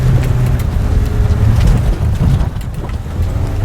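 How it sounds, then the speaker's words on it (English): A 2018 Mitsubishi Eclipse Cross S-AWC climbs a steep, loose gravel hill off-road, giving a loud, steady low engine rumble mixed with crunching tires and wind buffeting, close and continuous throughout. "So it's kind of steep right here, very loose gravel, a little bit of gas onto it."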